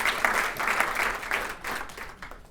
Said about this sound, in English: So you should give him a round of